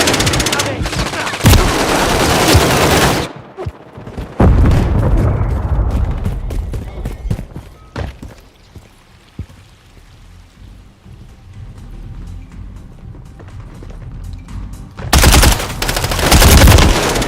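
Loud Call of Duty MW3 gunfire on PS5, bursts of rapid automatic shots in dense volleys, easing into scattered single shots and quieter battle noise before heavy firing returns.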